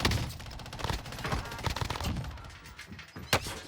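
Gunfire in a first-person shooter match, a dense burst of rapid overlapping shots with one sharp louder report near the end, mixed with game noise and no voices.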